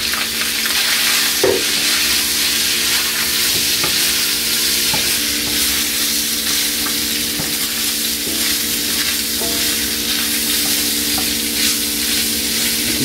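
Sausage and beef sizzle steadily in a discada pan, a dense continuous frying hiss with a few faint clinks of stirring scattered throughout.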